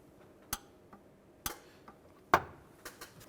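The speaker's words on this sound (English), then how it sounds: "Now I'm going to torque this bolt to 37 foot-pounds." Sharp clicks of a torque wrench on a bolt in a 2007-2013 Chevrolet Silverado drive belt job, about six distinct ticks at uneven intervals, the loudest near the middle, close and otherwise quiet.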